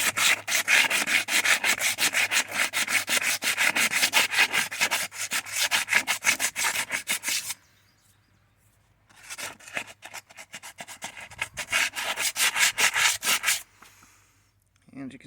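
Sanding the sheen off a metal vehicle frame before POR 15 coating: steady, rapid back-and-forth scrubbing strokes, close and loud, in two long runs separated by a short pause.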